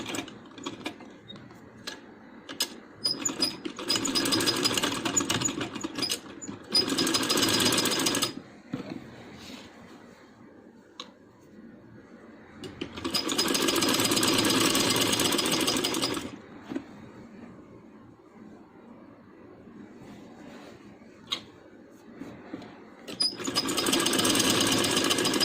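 Sewing machine running in three loud bursts of stitching along a seam of a handmade baby boy's dress, separated by quieter pauses with faint handling noise.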